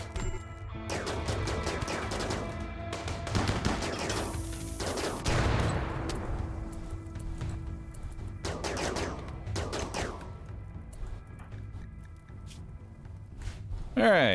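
Bursts of rapid gunfire from a shootout in the RimWorld video game, coming in several clustered volleys with crashes between them, moderately quiet, while a person talks over the action.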